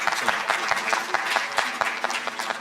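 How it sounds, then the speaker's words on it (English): An audience at a university management and law research day claps in brief, fairly even applause, with scattered individual claps standing out and a faint murmur underneath. "let's give him a round of applause"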